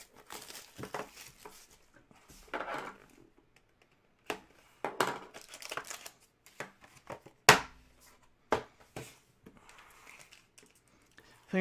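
A sharp knife slicing open sealed boxes of 2019-20 Upper Deck Chronology hockey cards, heard as scattered close scratches and crisp cuts with quieter rustling between them.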